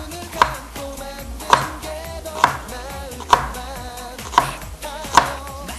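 A knife chops green onions on a cutting board in a kitchen, six evenly spaced crisp knocks about one second apart, close and clear with no talking.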